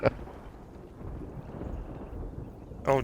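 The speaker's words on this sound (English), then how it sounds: "Oh, did you hear that thunder? That's an omen." Thunder in the hunting video game Hunter: Call of the Wild is a low, distant rumble that swells and fades over a couple of seconds, with brief voices at either end.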